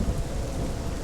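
Heavy rain and rolling thunder from the video game Hellblade: Senua's Sacrifice, a dense, loud, continuous roar with deep rumbling underneath, no voices.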